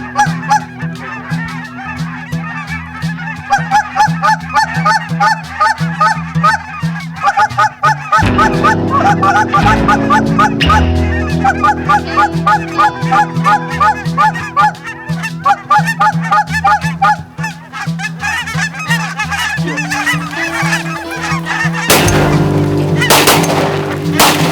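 A flock of geese honks loudly and continuously during a waterfowl hunt, with many overlapping calls close by. Several loud shotgun blasts break in partway through, and a heavy burst comes near the end.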